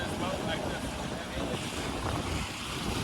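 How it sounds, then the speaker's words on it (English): Strong wind roars steadily over a whitecapped lake, buffeting the microphone with dense rushing noise and waves breaking underneath. "White caps. It's pretty windy."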